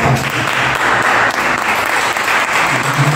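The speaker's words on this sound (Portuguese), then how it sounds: "Você pode aplaudir a Jesus bem forte." A church congregation applauds loudly and vigorously, a thick, unbroken wall of clapping that swells in waves over a few seconds.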